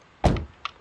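Mercedes-Benz W124 car door shutting in BeamNG.drive, one solid thunk followed by a smaller latch click a moment later, close and clear against a quiet background.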